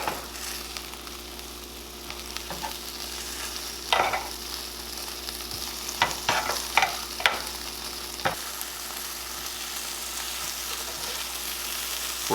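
Chicken thighs sizzle steadily on a Chefman indoor smokeless grill, a soft continuous frying hiss broken by a few sharp clicks and scrapes as the pieces are moved and turned.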